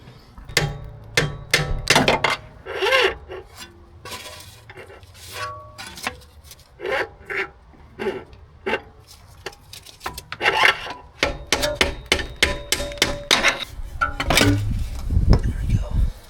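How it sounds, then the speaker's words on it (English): Sharp metallic clanks and knocks in irregular bursts, with scraping between strikes, close by, as a pry bar is hammered under a BMW E90 328xi during oil pan gasket work, outdoors in the rain. "I'm basically just going to use a pry bar and just hammer them out."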